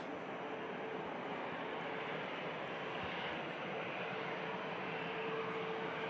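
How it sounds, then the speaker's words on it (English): An EasyJet A320 with CFM engines arrives at Manchester Airport from Amsterdam, its engine noise a steady, fairly faint broadband rush heard alone throughout. "In from Amsterdam, EasyJet A320 CFM."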